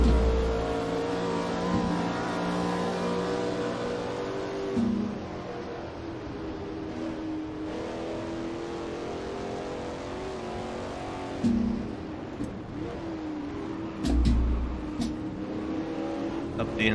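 Race car engines in a sim racing video game on a fictional circuit, humming steadily, with repeated revs and gear changes as the car weaves through traffic. A voice talks throughout, loud and close.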